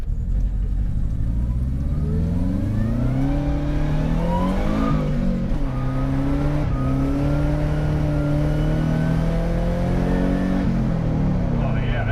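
Subaru Loyale with an upgraded fuel pump accelerating hard on clear ice with wheels spinning through second gear, engine pitch climbing steadily and loudly, then dropping at a shift before rising again, with a voice talking over it.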